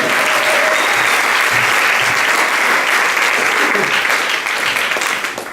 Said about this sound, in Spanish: ¿Quién le da un aplauso a la palabra de Dios?